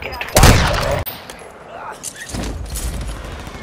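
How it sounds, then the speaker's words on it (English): Gunfire in the video game Call of Duty Warzone 2.0, a loud burst of shots near the start, then duller distant firing under game noise, with voices talking. "Guys shooting from the gas station."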